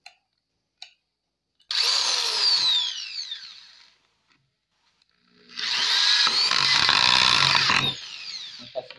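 An Einhell drywall screwdriver drives a drywall screw in two close, loud bursts of high whirring motor whine, each lasting a couple of seconds, with short quiet gaps around them.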